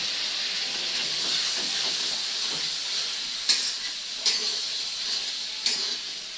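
Vegetables fry with a turmeric and cumin paste, a steady hiss and sizzle throughout, broken by a few brief sharper pops toward the end.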